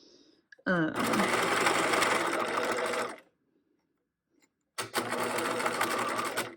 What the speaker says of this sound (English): I'm going to only stitch to this pin, and then I'm going to back stitch